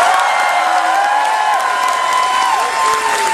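A crowd in a concert audience aboard a cruise ship applauds and cheers steadily throughout, a dense, sustained wash of clapping with scattered whoops.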